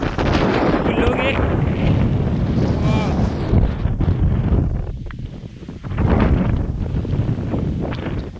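Strong gusting wind buffets the microphone on a misty hilltop at Thulas Mount near Vagamon, a loud continuous roar that swells and eases throughout, with a voice briefly audible beneath it.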